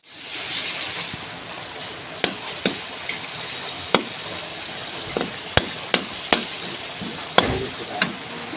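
Garlic, onion and other ingredients for chicken kaldereta sautéing in a pan, with a steady close sizzle broken by occasional sharp knocks of a utensil stirring against the pot.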